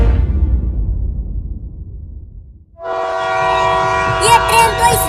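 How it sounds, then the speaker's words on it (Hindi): A train slowing to a stop in a forest: low rumbling rail noise fades away over a few seconds, then a loud sustained horn blares with a few pulsing higher blasts. "ये ट्रेन तो इस जंगल में रुकने लगी।"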